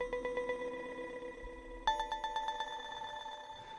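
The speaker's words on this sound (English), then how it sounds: "You're going to get sort of this interesting reverb sound." A synthetic tone through the Cluster Delay plugin sounds in a repeating pulsed pattern, each hit trailing into a diffuse, echoing reverb tail; a brighter, higher tone then repeats the same way.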